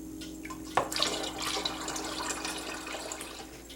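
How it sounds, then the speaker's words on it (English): Cactus juice poured back into its container, a steady close liquid trickle and splash after a brief clink, running continuously to the end with no talk. "after you're through, you can pour back what you don't use"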